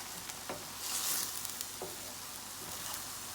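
Seasoned ground meat frying in a pan gives a quiet, steady sizzle, with a few light scrapes as it is stirred and a brief louder hiss partway through.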